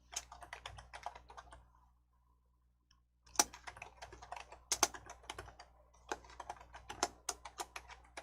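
Quick keystrokes on a computer keyboard, bursts of close, crisp clicks with a short quiet pause partway through, then resuming with a few sharper spacebar-like taps.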